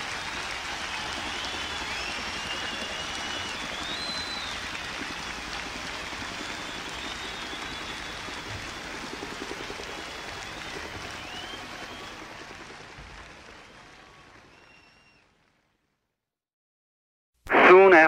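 Steady rain pours over a huge open field at the 1969 Woodstock festival at White Lake, a loud continuous hiss that holds for about twelve seconds, fades away into near silence, then a sudden burst of noise returns at the very end.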